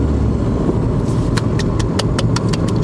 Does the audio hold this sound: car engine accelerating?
yes